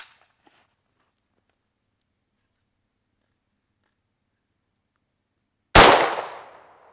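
One sharp, loud rifle report from an Arsenal AK-74 firing 5.45x39 into a sandbag cracks out after a long silence, then decays over about a second.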